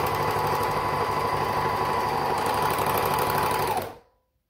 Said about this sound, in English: And then just serge at the edge there.